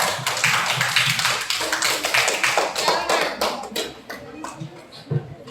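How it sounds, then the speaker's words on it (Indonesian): Classroom of students clapping for a presenting group, an uneven burst of hand claps that swells then thins out in loose, irregular bursts, with faint voices mixed in. "tepuk tangan dulu untuk kelompok 3"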